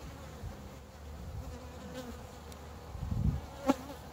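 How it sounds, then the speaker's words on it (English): Honey bees buzz steadily at a spring hive during an inspection, a low continuous drone close by, with a brief sharper buzz near the end. "Beautiful bee."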